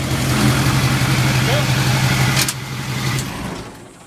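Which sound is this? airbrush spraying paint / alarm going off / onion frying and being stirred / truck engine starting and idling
truck engine starting and idling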